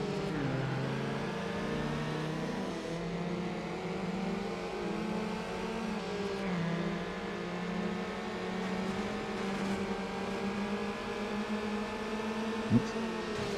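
A regular Mitsubishi Lancer engine in Need for Speed Underground hums and revs steadily, its pitch climbing and dipping through long pulls, with a faint click near the end and no voices.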